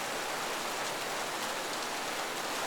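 Steady, dense rainfall on Paris streets hisses evenly throughout, a constant wash of drops with no pauses and no voices.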